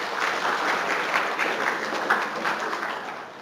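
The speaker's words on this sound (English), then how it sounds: "All right, round of applause." A university lecture audience claps together in a sustained burst of applause lasting several seconds, dense and even before tapering slightly at the end.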